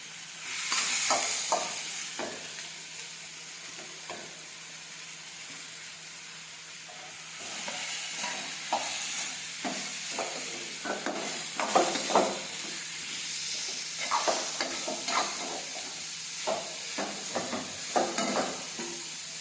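Grated carrot, chilies and tomato fry in oil with a steady sizzle and hiss, broken by repeated scraping stirs that come in bursts and grow busier toward the end.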